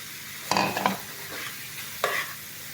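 Potatoes go into a pan for a katla fish curry, making a soft background sizzle with two bursts of clattering, scraping stirs near the start and middle.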